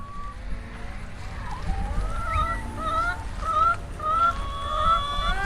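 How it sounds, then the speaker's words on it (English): Free-range chickens clucking and calling repeatedly around a yard, several birds nearby, over a continuous low rumble. "we have got free ranging chickens all around the yard"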